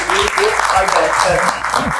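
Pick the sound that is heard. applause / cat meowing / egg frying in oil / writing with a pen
applause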